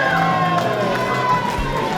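A wrestling crowd at an Integrity Wrestling show in Australia cheers and roars continuously, loud and dense, with a commentator talking over the noise.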